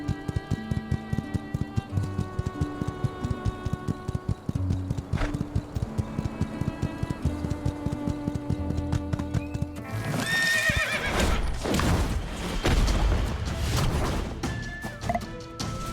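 Horse hooves in My Time at Sandrock clip-clop in a steady rhythm over background music, followed by a loud neigh and crashing impacts.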